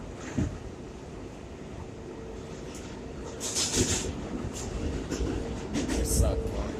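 A New York subway 6 train rumbles past at a station near 14th Street–Union Square, a steady low roar with rising screech and rattle toward the end, while someone talks over it.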